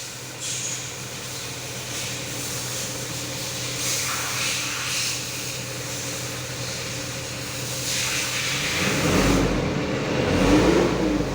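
Mitsubishi Canter Euro 4 truck with a speedometer fault, its diesel engine cranked and then running at a steady idle before revving up louder near the end, heard up close with no talk.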